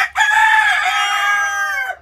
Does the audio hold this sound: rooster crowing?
yes